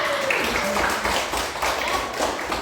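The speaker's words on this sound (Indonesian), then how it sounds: "Jadi ibu akan memberikan aplaus atau penghargaan buat kelompok 2" A classroom group claps for group 2, a steady, dense patter of hands filling the room for a couple of seconds without a break.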